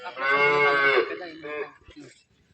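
A Jersey cow on a dairy farm gives one long, loud, close moo, then a shorter second call that trails off into quiet.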